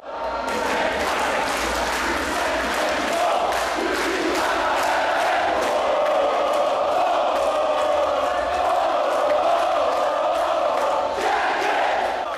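Joinville football fans gather at the arena to welcome their players and coaching staff, a loud, continuous crowd roar of chanting and shouting, with sharp claps or bangs rising through it.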